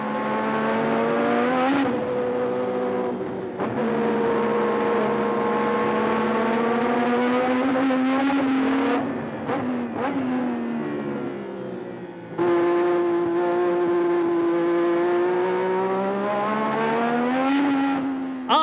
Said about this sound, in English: Patrick Tombe gets the Renault moving and closes up on a gaggle of cars.